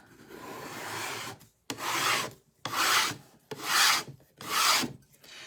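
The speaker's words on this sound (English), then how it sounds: "Now I'm going to take my scraper." A scraper drawn across the waxed surface of an old-fashioned candy cane, five distinct rasping strokes in a steady rhythm with short silent gaps between them, close and clear.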